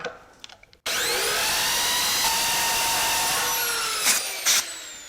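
Power drill boring out a broken bolt on a Jaguar S-Type, a loud steady whine with rising harmonics after a brief quiet start, ending in two short surges.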